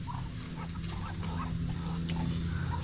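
Ducks call and honk in a backyard flock, several nasal quacks scattered over a steady low rumble of background noise, moderately near.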